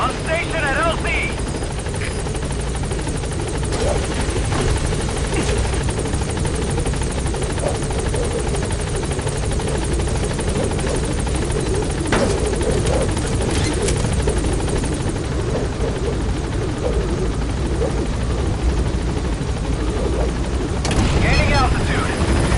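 The Pequod helicopter from Metal Gear Solid V flying, a loud continuous rotor thrum and engine whine that holds steady throughout, with a radio voice speaking over it.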